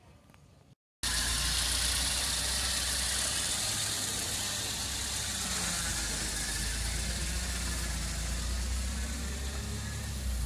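A pink Ford Del Rey, parked for a year, runs its engine while pulling out of a garage, a steady mid-pitched hum and vibration that holds constant after a brief quiet start.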